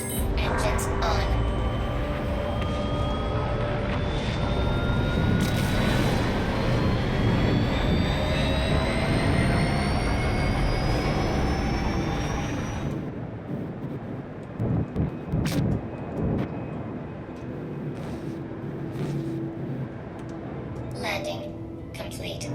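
Spaceship engines in the game Star Citizen run as a loud, steady jet-like roar with rising whine tones, then cut to quieter rumbles and clicks partway through; no talk is evident.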